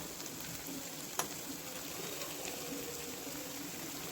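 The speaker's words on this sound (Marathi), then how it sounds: "आता बारीक होईपर्यंत परतून घ्यायचं" Turmeric and chili powder sizzle in a pan for a paneer dish, a steady, soft frying hiss with faint stirring and one brief click, close by with no talk.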